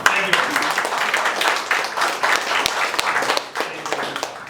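An audience at a magic show performing at a winery bursts into applause, a dense, sustained clapping from a crowd close by that thins briefly near the end.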